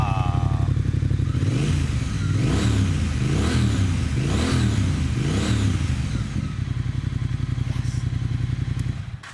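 A 2021 Triumph Speed Twin motorcycle revs up close, rising in a series of about four sharp throttle blips to just under 5,000 RPM before settling back to a loud, steady idle.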